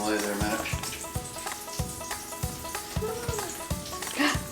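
Raccoon meat sizzling in hot grease, a steady frying crackle with soft stirring or clinking at irregular intervals, close by; a voice is faintly audible underneath.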